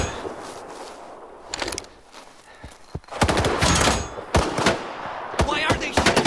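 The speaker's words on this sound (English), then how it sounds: "Why are they shooting at us?" Gunfire in the video game Stalker 2, sharp bursts and single cracks of rifle and automatic fire, loud and close, scattered through the second half after a few isolated shots.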